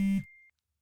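A mobile phone goes off during a live show, giving a brief electronic tone with a strong low hum that cuts off abruptly, followed by a thin fading beep trailing away.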